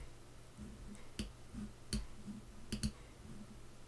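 Sharp, quiet mouse clicks while working in Photoshop, four or five isolated clicks including a quick double click, close to the microphone over a faint hum.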